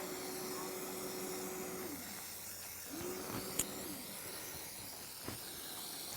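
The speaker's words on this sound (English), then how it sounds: "So I take a little bit of brake cleaner, spray in there." A steady hissing spray of aerosol brake cleaner into a snowmobile clutch, under faint background noise, with a couple of short tonal whines and small clicks nearby.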